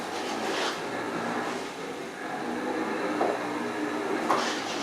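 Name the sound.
HD motors of electric wheelchair driving in a circle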